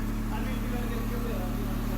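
A 2003 Hyundai Accent idles with its exhaust spitting, a steady close-up engine drone with rhythmic low pulsing and a rough, sputtering texture.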